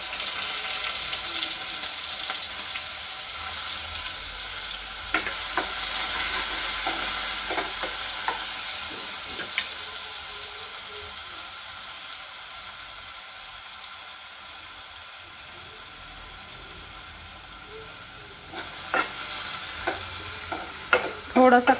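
Onion fries in a generous amount of oil in a pan, giving a continuous close sizzle. Scattered spoon scrapes mark stirring, and a burst of clatter comes near the end.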